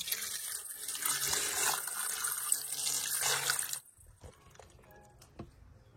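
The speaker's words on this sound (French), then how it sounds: "Je viens ensuite verser les 600 g d'eau." Water pours steadily into the bowl of a Monsieur Cuisine kitchen machine for nearly four seconds, a close, splashing gush that stops abruptly, followed by a few faint drips and clinks.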